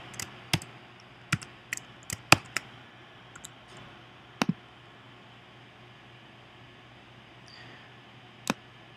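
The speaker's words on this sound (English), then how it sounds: "First, I type in the username, and then I type in the password." Scattered sharp clicks and key taps from a computer keyboard while a username and password are entered, sparse and close over a quiet hum.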